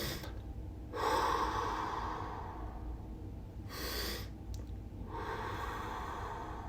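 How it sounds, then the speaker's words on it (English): Slow, deliberate breaths: a soft inhale through the nose followed by a long, airy exhale out through the mouth, repeated in a calm, close, unhurried rhythm with no talking. "Breathe in with your nose and out with your mouth. Try to make your exhales longer,"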